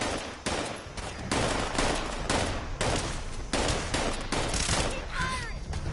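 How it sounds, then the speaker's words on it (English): Rapid gunfire from raiders and a hostile turret in the video game Fallout 76, dense overlapping bursts of shots filling the whole stretch at steady loudness. "What are you guys shooting at?"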